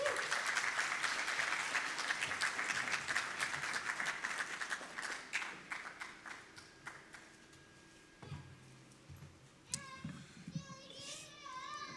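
Audience applause at a doctoral alumni reception builds into dense clapping, then thins out into scattered claps with voices and chatter emerging toward the end.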